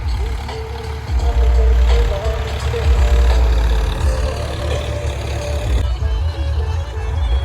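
A heavy tractor engine runs steadily nearby while ploughing with a disc harrow, a loud low rumble that keeps going throughout.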